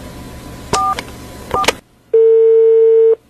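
A telephone call being placed: two short bursts of dialing tones, then a clean steady single tone held for about a second, loud and close with no talk.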